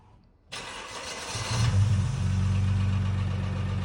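A car engine whose rear catalytic converter has been removed, with two front catalytic converters still fitted and a clogged catalytic converter, starts after a short quiet moment, then settles into a steady, close, fairly loud low idle.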